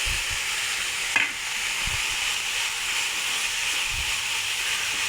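Ground coconut and shallot paste sizzles steadily in a hot pan, a loud continuous hiss of frying with a few soft thumps and clinks of stirring.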